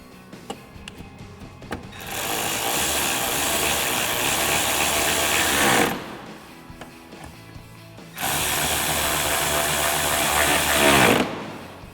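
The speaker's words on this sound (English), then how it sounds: "And tighten them down with our 7mm socket." A ratchet with a 7mm socket tightens bolts while installing headlights on a Ford F-150. There are two long, loud runs of rapid, continuous clicking, each several seconds, close to the mic. They are separated by quieter handling noises.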